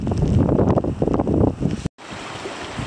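Gusty wind buffets the microphone beside Lake Wills on the snowy Overland Track, a loud, rough roar that surges and fades before a brief dropout and a steadier blowing.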